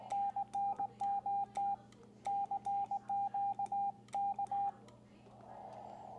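Morse code sidetone from a Xiegu X6200 radio, keyed by hand as a steady pitched tone in short dits and longer dahs grouped into bursts, faint and close, with a hum underneath.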